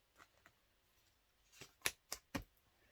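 Scissors snipping out a small paper embellishment for a scrapbook album, a few faint trims followed by three or four crisp close snips, quiet and unaccompanied by talk.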